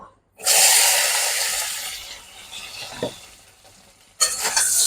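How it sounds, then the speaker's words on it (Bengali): Peeled taro pieces tossed with salt and turmeric fry in hot oil. A loud sizzle bursts in after a moment of quiet, eases, and flares again when stirred, with a brief scrape midway and no voices. "আমি মুখি কচুগুলোর থেকে চোচা ছাড়িয়ে এখন একটু নুন হলুদ দিয়ে এটা ভাইজে নেব"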